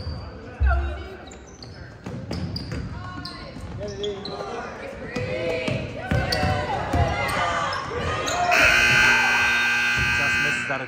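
A loud, harsh electronic buzzer blares to end the first half of a junior varsity girls' basketball game between Westwark and Smithfield, following sneaker squeaks and ball bounces on a gym floor, with crowd and voices throughout.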